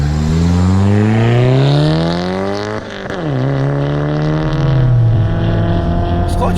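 A 1995 Toyota Celica GT-Four pulls away on a test drive, its engine note climbing steadily through the revs, dipping briefly at a gear change, then rising again, loud and close from inside the car.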